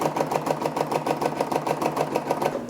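Home embroidery machine stitching a patch with green thread, a steady rapid mechanical stitching rhythm, close and continuous with no talk.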